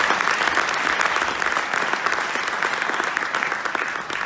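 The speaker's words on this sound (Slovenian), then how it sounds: "Dajmo še en aplavz za našo Uršo Kragar" Audience applause for Slovenian kayaker Urša Kragar at a kayak federation awards ceremony, a dense, even clapping that holds loud and steady throughout, with no voices over it.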